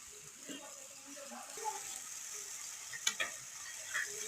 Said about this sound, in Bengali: তারপরে তেলে ছেড়ে দিলাম,